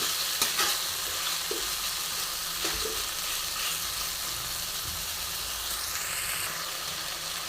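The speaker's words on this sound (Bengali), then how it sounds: "তো ভালো মতন চিকেনটা আমি কষে নেবো, যেন চিকেনটা সেদ্ধ হয়ে যায় খুব সুন্দরভাবে।" Chicken pieces are stir-fried kosha-style over a medium flame in a dry pan without water, with a continuous close sizzle, occasional spatula scrapes and a brief hiss of steam near the end.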